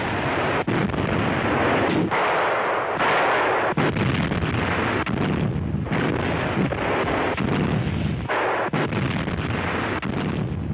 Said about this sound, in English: In this sequence, 88mm Flak 36 provide air cover to German ground forces in western Russia in 1944